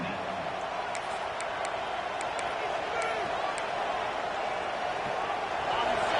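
A stadium crowd at a Miami vs Clemson college football game, a sustained, dense roar of thousands of fans holding steady throughout.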